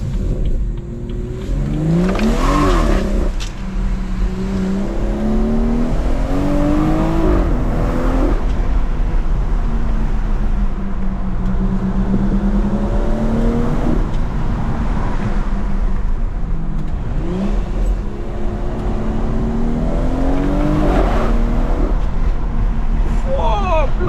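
A BMW M240i engine repeatedly pulls and revs through the gears on a fun, winding road, its note rising and falling in long sweeps up close from the cabin, with voices talking over it.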